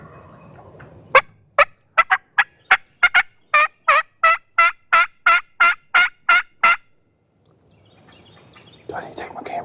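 A wild hen turkey calls during a spring turkey hunt, a rapid run of about a dozen loud, sharp yelps close by, followed by quiet whispering.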